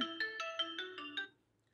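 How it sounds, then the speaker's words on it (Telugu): A synthetic phone ringtone plays a quick series of seven bright, evenly spaced melodic beeps, then stops, leaving near silence. "ఫోన్ మోగుతుంది"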